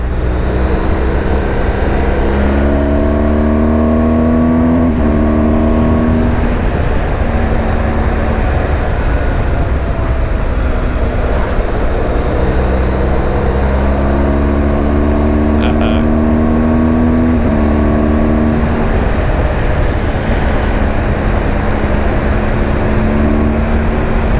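A motorcycle rides along an open road, its engine steady and loud with rising and falling harmonic tones as it shifts through gears, and strong wind rumble throughout.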